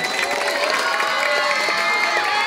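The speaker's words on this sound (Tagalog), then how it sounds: "pwede po ba akong makahingi ng masigabong palakpakan at hiyawan?" A crowd at a Miss Gay pageant national costume segment in a barangay cheers and applauds, a continuous wash of voices and clapping at steady loudness.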